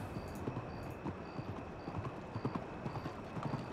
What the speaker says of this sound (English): Oh, can I hear a horse?